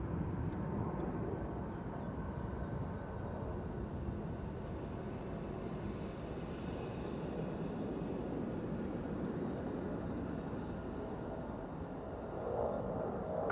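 A Cargolux Italia cargo plane climbs out after takeoff from Amsterdam Schiphol, its engines a steady, distant broadband roar that holds evenly throughout with no voices.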